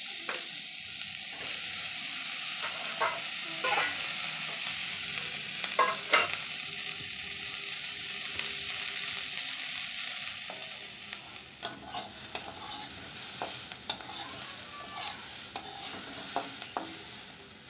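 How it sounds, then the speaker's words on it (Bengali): Ridge gourd peels fry in a pan with turmeric and salt, a soft continuous sizzle broken by scraping stirs, with sharper clatters of the spatula toward the end. "আর সামান্য পরিমাণ হলুদ দিয়ে ভালো করে ভাজতে থাকবো"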